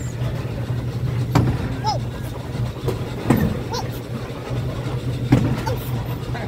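A 1950s-style car ride at Gilroy Gardens amusement park rumbles steadily as it drives uphill, with knocks and clunks at regular intervals and people talking in the car.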